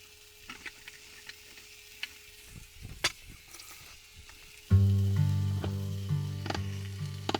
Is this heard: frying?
yes